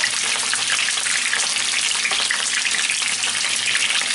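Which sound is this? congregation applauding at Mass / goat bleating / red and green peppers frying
red and green peppers frying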